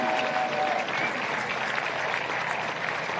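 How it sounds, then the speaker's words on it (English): A crowd at a women's military football championship ceremony claps steadily and loudly throughout, a continuous wash of applause with a faint murmur of voices beneath. "Big round of applause to you."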